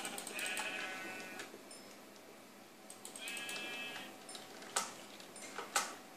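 Sheep in the Minecraft video game bleat in short wavering calls, two clear bleats a few seconds apart, followed by sharp clicks, all fairly faint with no talk.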